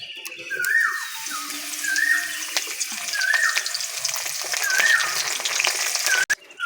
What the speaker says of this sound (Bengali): তেলের মধ্যে এক একে বেগুনগুলো দিয়ে দিচ্ছি